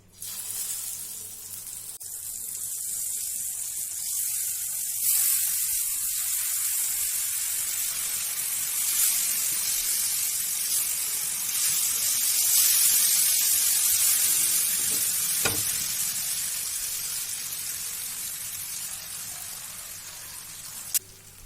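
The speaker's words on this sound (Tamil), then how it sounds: "இன்னும் தோசைக்கல்லில் போட்டு பொரிச்சு எடுத்துடலாம்." Marinated yam slices fry in about three spoons of oil on a dosa pan over low flame, giving a steady, dense sizzle and crackle that holds evenly throughout, with one brief sharp pop near the middle and no voices.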